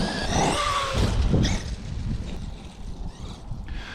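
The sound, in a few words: Traxxas E-Revo RC truck driving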